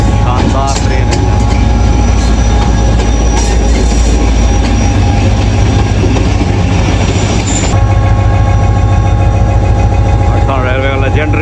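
Two trains pass by on railway tracks, one hauled by locomotive HGMU 8224, with a loud, close, continuous roar of engines, rumbling wagons and rail noise throughout, and wheels squealing near the end.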